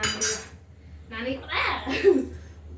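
A metal pot clanks as it is set on one of three stoves in a village kitchen, giving a brief clatter at the start, followed by nearby talking with faint utensil clinks.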